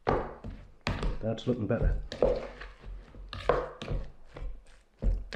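A spoon works breadcrumbs into a wet, spicy bean burger mixture, giving soft thunks and scraping knocks against the bowl that sit beneath a man's close, steady talking.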